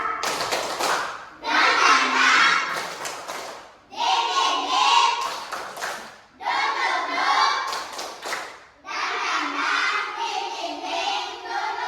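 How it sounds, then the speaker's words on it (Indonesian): Children in a classroom perform tepuk semangat, a rhythmic clapping chant, in four loud, evenly spaced bursts of clapping and voices separated by short pauses. "Tepuk semangat."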